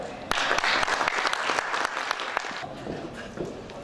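Applause from an audience at a Turkish word game, a burst of dense clapping that fades after a few seconds into quieter scattered claps.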